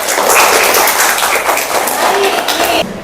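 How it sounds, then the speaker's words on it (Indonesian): Classroom applause for a teacher: a dense, steady wash of clapping from a group of students, fairly close, lasting about three seconds before tapering off, with some chatter mixed in. "Tepuk tangan buat Bapak."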